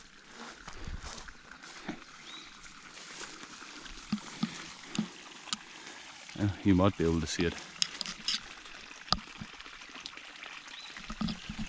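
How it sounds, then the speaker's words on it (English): Water gushes continuously out of a drilled borehole near an old dam, a steady rushing pour with splashy surges, heard beneath someone talking nearby. "tons of water just runs out of there"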